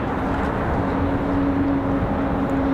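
An aircraft near Raleigh-Durham International Airport rumbles as a steady, fairly loud engine drone with a sustained low hum, continuous and with no talking.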